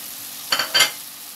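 Tomatoes are tipped into a pan where minced meat fries in oil for dum keema, giving two short bursts of hissing sizzle and stirring close by over a steady low background.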